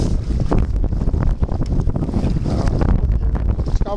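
Strong, cold north wind buffets the microphone while kayak fishing at sea off Chojagasaki near Hayama, a loud continuous roar with gusting swells and faint water noise beneath, no talk.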